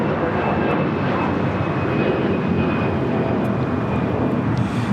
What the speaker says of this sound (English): 962 taking off to Dallas Fort Worth on an A320